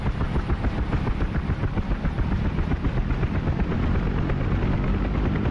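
UH-1 Huey helicopter turbine and rotor spooling up in the DCS flight simulator, a dense, steady whine and thumping rotor chop that holds loud and continuous throughout.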